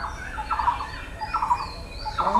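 Farm fowl give three bursts of wobbling, gobble-like calls over a low background hum, at moderate loudness and fairly close.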